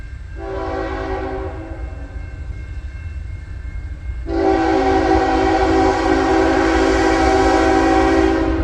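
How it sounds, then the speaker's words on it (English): An auto rack freight train, one locomotive leading, rumbles past close by, its horn blaring twice: a shorter blast, a pause, then a long sustained one over the heavy rolling noise. "Another goddamn auto rack train"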